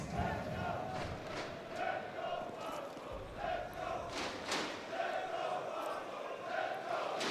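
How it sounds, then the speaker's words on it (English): An esports arena crowd chants in rhythmic, repeated surges for Falcons during a Team Spirit vs Falcons semifinal, heard at a moderate distance as a steady wash of voices. "This crowd trying to get Falcons a little energized. The chants that were supporting Ends last night have transferred over."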